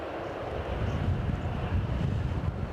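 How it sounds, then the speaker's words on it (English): SAS and Ryanair airliners taxi at Edinburgh Airport in wet, windy weather, giving a steady low engine rumble mixed with wind buffeting the microphone, with no distinct peaks and no talking. "So now the SAS are moving, the Ryanair Biarritz aircraft is also moving"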